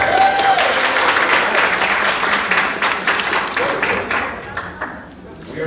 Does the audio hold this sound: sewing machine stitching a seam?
no